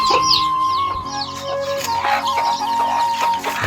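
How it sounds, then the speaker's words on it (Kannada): A native country hen clucks close by in a series of loud, rhythmic, throaty clucks and short squawks, with other chicken sounds in the background. "ಇದು ಪ್ಯೂರ್ ಜವಾರಿ ಕೋಳಿ ಈ ಥರ ಮಾಡುತ್ತೆ."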